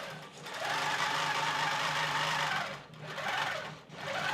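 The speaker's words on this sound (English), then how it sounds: "I think it stitches a little bit slower, so it will take more time to stitch things out" A Moxie longarm quilting machine stitching a quilt, a steady mechanical whir that dips briefly twice before resuming, close and continuous.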